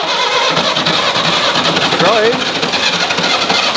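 An old bus engine cranks on its starter button, a loud continuous churning turnover with no clear catch, while people talk close by.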